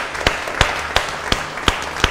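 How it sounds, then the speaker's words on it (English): Applause from a church congregation at a harvest all-age worship service, sustained clapping with regular louder bursts, filling the room without any talk over it. "Shall we give her a round of applause?"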